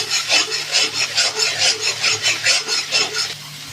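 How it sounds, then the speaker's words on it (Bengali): Spice masala with turmeric, cumin, chilli and coriander powder and a little water being sautéed for Bengali niramish khichuri, loud rhythmic scraping strokes of a spoon stirring in the pan, close and steady, without talk. "মশলা ভালো করে কষে নেবো।"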